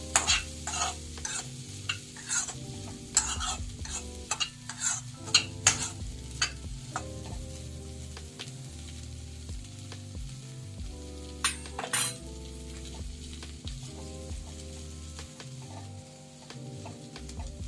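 Corn kernels sauté in butter in a pan with a continuous sizzle, while a spoon stirs and scrapes in quick clattering strokes that cluster at the start and return briefly later, close by with no voices.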